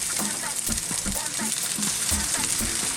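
Rice hits a hot pan with cracked black pepper and fresh coriander, giving a loud continuous sizzle broken by rhythmic scraping stirs roughly twice a second.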